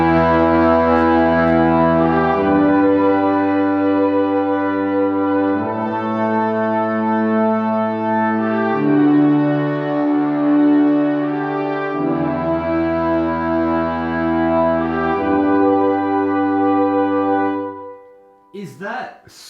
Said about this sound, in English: We're gonna have the tuba, the trumpets, the French horns, the bass trombone, and the tenor trombone.